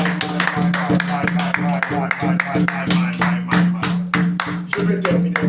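A church congregation claps in a steady, fast rhythm throughout, the sharp claps repeating over a sustained sung or spoken voice.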